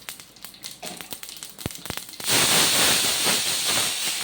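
Mustard seeds and cumin hitting hot oil for a brinjal buttermilk curry: a few sharp pops and crackles, then a sudden loud, sustained sizzling hiss close up that continues to the end.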